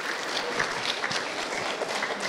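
A stand-up comedy audience claps for a favourite comic, a steady, mid-level patter of many hands with a few crisp individual claps popping out, unbroken and free of speech.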